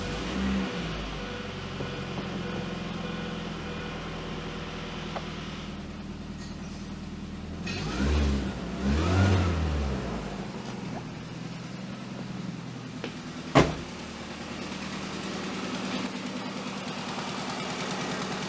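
A car engine with an exhaust leak idles steadily close by, then swells in a couple of short revs midway before settling back to idle, ending with a single sharp tick.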